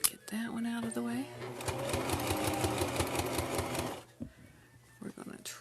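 Someone speaks briefly, then a sewing machine whirs in a rapid rhythmic stitching run for about two seconds while making a soup bowl hot pad, before stopping, followed by faint handling noises.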